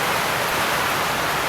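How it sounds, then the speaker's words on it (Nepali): Heavy rain pouring down outdoors, a dense, loud, unbroken roar of water with no pauses and no voices. "बडो गजबका साथ पानी पऱ्यो यार"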